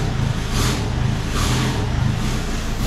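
A tuned Volkswagen Golf GTD with a 2.0 TDI diesel engine, modified past 300 horsepower, revs hard in three evenly spaced blips over a loud, close engine drone.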